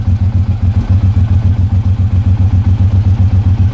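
Suzuki M109 motorcycle engine running with a new hydraulic clutch fitted, a loud steady low thumping idle with an even rapid pulse throughout, no talk.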